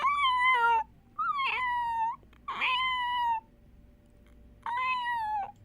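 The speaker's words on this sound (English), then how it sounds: "It's a dying kitten also" A cat meows in several long, drawn-out, plaintive cries, likened to a dying kitten, separated by short pauses and heard fairly close and clear.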